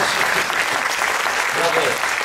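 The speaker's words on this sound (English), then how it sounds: "Your applause, please, for activities manager Rob, everybody." Audience applause aboard the Independence of the Seas cruise ship, a dense steady clapping from a crowd lasting the whole stretch with a few cheers mixed in.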